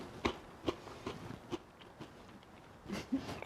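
Homemade vegan Cheez-It crackers are bitten and chewed up close, giving about eight quiet, separate crunches in an uneven rhythm.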